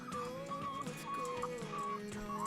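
Egg-laying hens on a small farm cluck and murmur in a steady, overlapping chorus, with several soft calls rising and falling close by and no talk.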